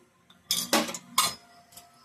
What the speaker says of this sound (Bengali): পুর করার জন্য কড়াইয়ে তেল দিচ্ছি